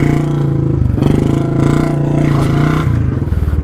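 A Royal Enfield Bullet motorcycle revs hard during a wheelie, its engine loud and close with a steady, throbbing thump that swells and eases over a few seconds.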